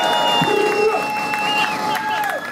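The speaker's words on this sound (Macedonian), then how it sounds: "И еден аплауз за Маро од Задагол!" A crowd at a Macedonian rap battle cheers and applauds, with whistles and shouts rising over a dense roar while an announcer talks above it.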